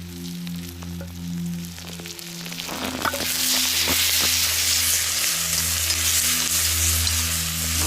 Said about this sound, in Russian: Вот сейчас тушенка жир даст.